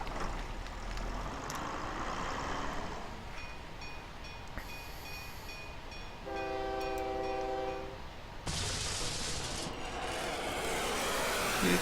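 Trains in the OpenTTD video game rumble along with a steady rolling noise, joined midway by a sustained tonal horn blast and later a brighter burst of rushing rail sound, all fairly faint with no talk.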